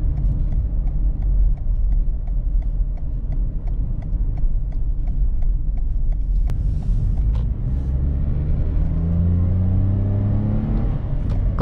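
A Toyota Yaris Cross gasoline X with a 1500cc engine pulls away from a green light. Steady ticking clicks give way to a loud engine note that climbs and rises as it accelerates, with a lagging, sluggish build.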